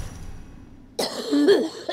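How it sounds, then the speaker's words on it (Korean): A sudden hoarse cough from a woman with rhinitis bursts out after a quiet moment, followed by a rough, strained throaty sound, close by. "갑자기 터져나온 기침"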